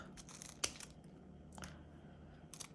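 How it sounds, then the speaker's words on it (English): Scissors snip artificial berries off a stem, giving a few short dry clicks and crunchy cuts at close range, separated by quiet pauses, with no voices. "Sometimes they don't come off easily. Give them a snip."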